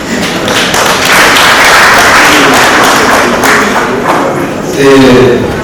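Loud, dense applause from a crowd at a Rwandan wedding engagement ceremony, swelling into a sustained wash of clapping with a voice heard over it.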